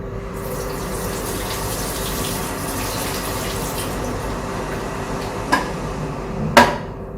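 Liquid pours out of a film developing tank in a steady, soft gushing stream during C-41 colour film processing, followed by two sharp clicks or taps near the end.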